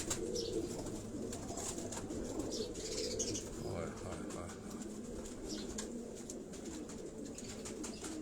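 Pigeons on a Karachi rooftop give low, soft cooing with occasional wing flutters and chirps, heard faintly against steady outdoor background noise.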